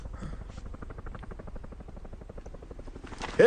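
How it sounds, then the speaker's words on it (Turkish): An approaching helicopter in a dubbed action film, its rotor chop a rapid, even pulsing that holds steady for about three seconds before a louder burst of sound at the end. "Helikopter geliyor."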